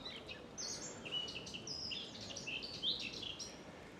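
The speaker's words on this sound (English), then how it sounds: "Can you hear the birds?" Faint, high birds chirping and tweeting in scattered short calls over a soft outdoor hiss, in the old town of Nice, France.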